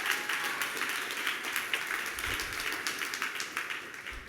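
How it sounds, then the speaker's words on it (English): Audience applause after a call to cheer the event team at a summit on hope and action, a steady wash of many hands clapping throughout, fairly distant and even with no clear peaks. "give a big round of applause to the whole"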